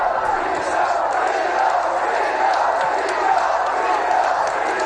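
A large boxing arena crowd roars and cheers continuously during a Teofimo Lopez fight, a dense, loud wash of voices with scattered shouts and whoops.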